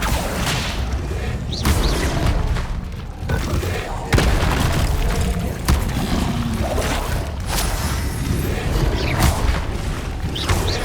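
Spells cast in Hogwarts Legacy, with dense magical whooshes, booming impacts and crashing bursts, loud and continuous, while a voice calls out spell names over the effects.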